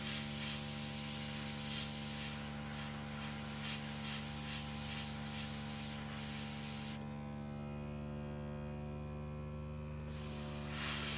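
An airbrush sprays paint onto fishing popper heads as a steady close hiss over a constant electrical hum, then cuts off for a few seconds before the hiss resumes.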